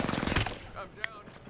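Rapid automatic gunfire in Apex Legends, a quick close rattling burst at the start that fades into game sounds and a voice.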